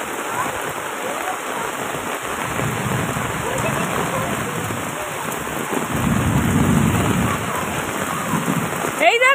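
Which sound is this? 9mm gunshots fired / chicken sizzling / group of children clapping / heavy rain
heavy rain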